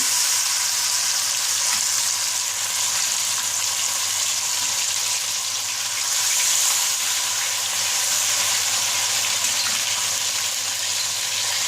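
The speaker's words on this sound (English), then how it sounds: "So the oil is quite hot now. We are going to just put the mandeli." Mandeli fish in hot oil in a small pan give off a steady, loud sizzle and hiss, close up and unbroken, with faint swells and no voices.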